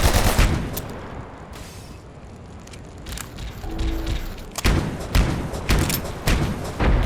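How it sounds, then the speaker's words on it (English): Bursts of gunfire and explosive thuds from enemy bots lobbing napalm and frag grenades in the game Abiotic Factor, loud and close, coming in irregular clusters with a quieter lull in the middle. "They have napalm grenades."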